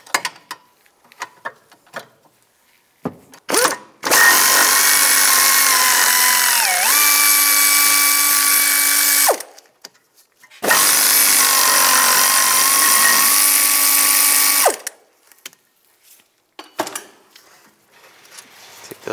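Power tool running a 16 mm socket to remove two bolts from the rear wheel hub bracket of a 2004–2010 BMW X3, in two sustained whirring bursts of about five seconds each, with a brief pitch dip in the first, close and loud with quiet gaps between.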